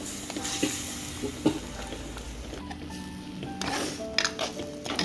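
Sardine curry with tamarind water being stirred in a pan, giving a soft continuous simmering hiss with intermittent scrapes and light clinks of a spoon against the pan, fairly quiet and close.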